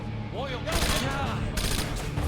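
A light machine gun fires in a video game, starting with a short vocal chirp and then a rapid, loud, continuous burst of gunfire lasting under two seconds.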